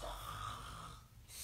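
A voice imitates snoring during a children's story time, one drawn-out breathy snore with a low rumble lasting about a second, ending in a brief pause and a fresh intake.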